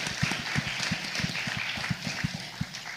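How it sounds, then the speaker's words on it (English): Audience applause for zombie film extras at a cast and crew screening Q&A, brisk sustained clapping with a few sharper individual claps standing out near the listener. "I want to have a round of applause for the zombie extras."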